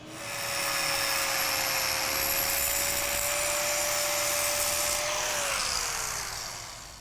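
A handheld concrete grinder cuts freehand detail into concrete with a loud, steady high whine that holds for several seconds and then winds down slightly at the end, close up with no talking.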